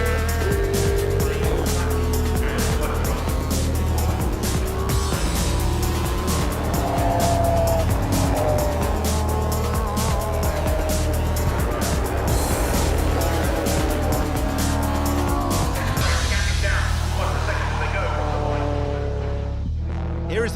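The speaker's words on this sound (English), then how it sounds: "Here is the battle for fourth position as Leon Price defends from Don Grice, but Grice goes through in the BMW, so Don Grice moves up into fourth position." Racing cars lap Silverstone in a club race, a BMW among them, engines roaring loudly and continuously with overlapping passes, revving and gear changes, with a faint tire squeal as the pack battles for position.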